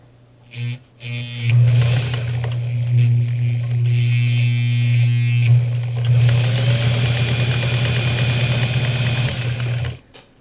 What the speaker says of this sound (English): I'm using the Singer model 237 from Michigan